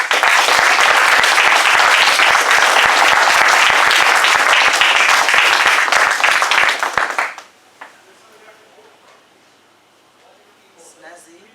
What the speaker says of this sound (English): give them another hand of applause